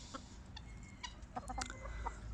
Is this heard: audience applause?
no